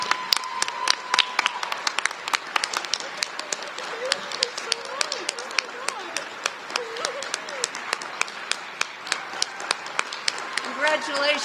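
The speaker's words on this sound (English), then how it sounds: "we need to give them a round of applause" Audience applause and clapping for poetry recitation competitors at a state finals, sustained and dense throughout, with a voice talking over the middle stretch.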